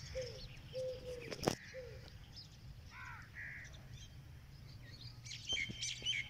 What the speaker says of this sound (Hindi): दोस्तों ये चिड़िया बैठी है।